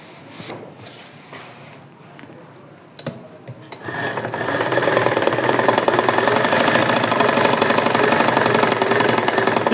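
A sewing machine stitching cloth starts after a few seconds of handling noise, then runs as a steady, close mechanical whir with rapid needle clatter.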